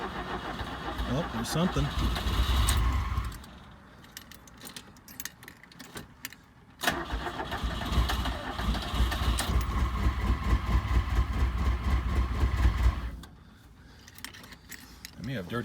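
A 1980 Fiat 124 engine roars close and loud, cuts out, then cranks back to life and settles into a rough idle before dropping off again. Keys jangle and someone speaks briefly.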